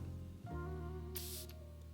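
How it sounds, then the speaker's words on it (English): A short, breathy hiss of a spray burst over a low hum, one quick puff and a faint second tail. "I'm going to give it some sprays here"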